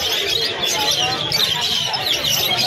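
Pigeons at a bustling open-air pigeon market in Birnagar, with steady bird chirps and coos mixed into a dense, continuous crowd din and murmuring voices throughout.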